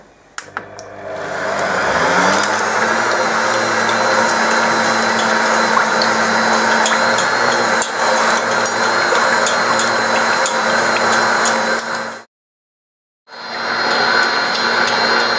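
An electric mixer whirs steadily at speed 2, blending crepe batter in one continuous loud drone, briefly cutting out near the end before starting up again.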